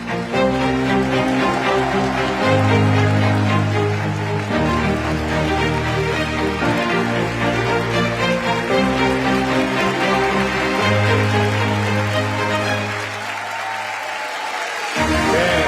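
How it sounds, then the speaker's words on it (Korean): Sustained applause from a standing audience welcoming the South Korean president into a hall for newly appointed officials, loud and steady throughout with a tonal musical fanfare playing underneath and a brief dip near the end. "모두 일어나 뜨거운 환영의 박수로 맞아주시기 바랍니다."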